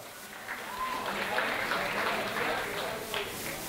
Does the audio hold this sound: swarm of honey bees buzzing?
no